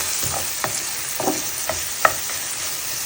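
Halved tomatoes fry in a pan, giving a steady broadband sizzle with a few soft stirring scrapes and one sharper pop near the end, no talking.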